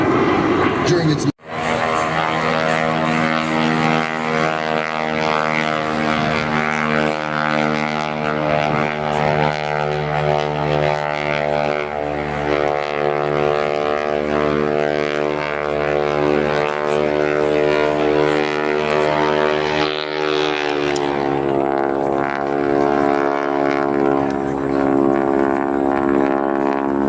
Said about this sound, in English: He makes a lot of noise for a little airplane, doesn't he?